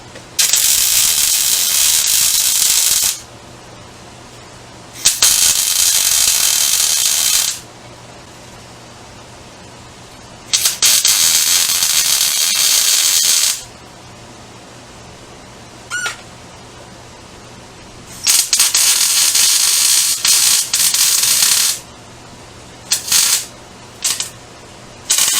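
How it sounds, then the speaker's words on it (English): A battery tray is welded in a garage, with several loud bursts of harsh, steady crackling hiss separated by quiet gaps and a few short final zaps, heard close. "we'll weld up this other side"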